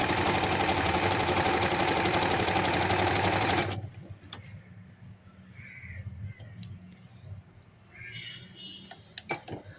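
A sewing machine runs fast and loud, stitching a handkerchief baby frock for several seconds before stopping abruptly, followed by quieter handling noises and a few faint bird calls.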